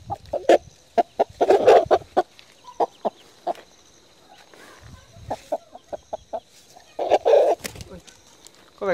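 A chicken that may be a fighting cock clucks in close, rapid bursts and short single calls, with some speech in the clip and low background noise.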